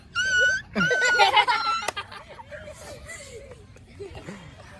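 Someone mimics a dog with a pair of yelping whines, then the sound breaks into laughter and scattered voices nearby.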